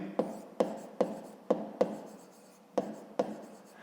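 Pen strokes scratching across paper while working a 5th-grade math exercise, seven short separate bursts at an uneven pace, close and moderately quiet with no talking.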